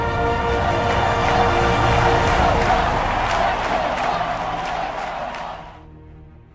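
A packed Pittsburgh Pirates playoff crowd roars and cheers in a ballpark, a dense, loud, sustained wall of voices that holds steady for several seconds before fading out at the end.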